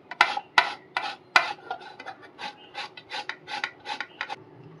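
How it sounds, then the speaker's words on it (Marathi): Boiled potatoes are grated by hand for an achari aloo pyaz paratha, giving a run of rhythmic rasping strokes, sharp and close at first and then quicker and softer, with no talking. "आपण आता बटाटे किसून घेऊया"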